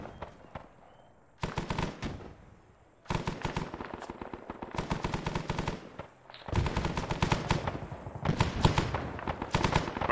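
Loud, rapid machine gun fire in the Arma 3 Vietnam video game, several sustained bursts separated by short pauses, dense and close, with no speech.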